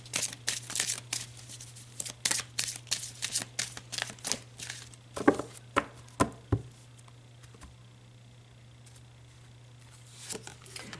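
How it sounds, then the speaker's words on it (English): A tarot deck is shuffled and a card pulled, giving a quick series of close papery riffles and flicks that slow into a few distinct snaps, then a quiet pause before faint card handling resumes. "let's pull another card."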